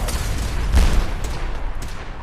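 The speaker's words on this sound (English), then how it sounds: "grenades!" Grenade blasts and gunfire from the video game Fallout 4 burst in a dense, rumbling volley with a heavier boom near the middle, no voice over it.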